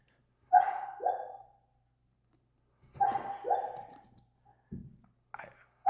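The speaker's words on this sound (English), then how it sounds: "That's my dog. I don't know if y'all can hear it." A sleeping dog lets out muffled, soft woofs while dreaming, two pairs of short barks a couple of seconds apart followed by fainter yips and snuffles in an otherwise quiet room.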